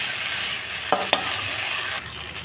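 Boiled, drained soybean chunks are stir-fried with spice paste in a pan, giving a continuous close sizzle with two quick scraping strokes of a spatula.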